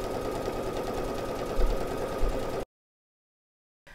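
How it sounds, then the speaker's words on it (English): A Baby Lock Brilliant sewing machine stitches along a raw edge with a steady, fast mechanical whir for nearly three seconds before cutting to silence. "I'm gonna stitch along that raw edge all the way down."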